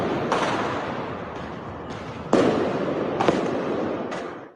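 Fireworks go off downtown in St. Louis on the 4th of July, shot at buildings: a dense, loud roar of crackling bursts with several sharp bangs rising over the din.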